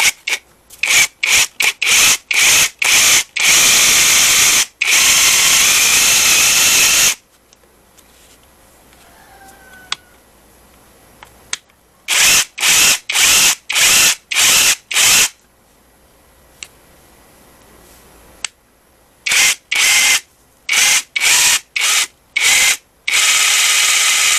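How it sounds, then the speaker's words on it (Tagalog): A repaired impact wrench fires in repeated bursts of loud, rapid hammering, with short pauses between trigger pulls and a longer quiet stretch in the middle. "Okay na itong impact wrench."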